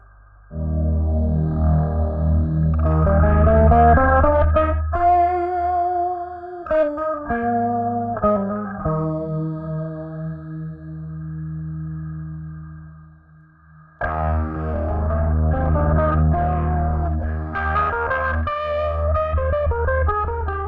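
An electric guitar played through the Soundtoys Under the Lava effect preset rings out heavily compressed, distorted chords and notes with a shimmering, swirling sustain, loud and alone with a brief quieter gap midway.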